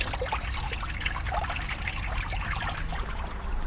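Water streams steadily over a GoPro action camera, a continuous close trickling and splashing wash with no pauses and no speech.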